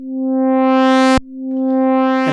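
A sawtooth wave from a VCV Rack Eurorack software synthesizer plays as two loud sustained buzzy tones, each fading in, the first cut off abruptly before the second begins, with no other sound.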